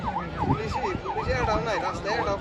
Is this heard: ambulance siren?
yes